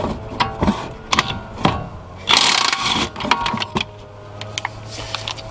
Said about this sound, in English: I'm going to go on ahead and break loose these other two bolts.